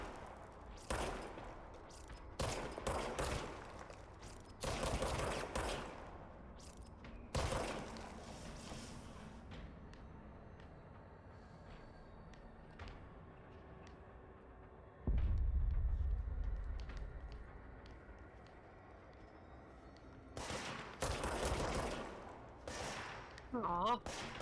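Enemy gunfire in the video game Control comes in several loud, separate bursts of rapid shots, with a deep rumbling thump midway and quieter gaps between volleys.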